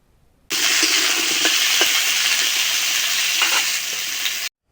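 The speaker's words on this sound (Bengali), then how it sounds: "এবার আলু এবং পটলগুলিকে ভালো করে ভাজতে হবে।" Potatoes and pointed gourd fry in a pan, a loud, dense, continuous sizzle that starts abruptly and cuts off at the end, with a few soft stirring knocks and no talking.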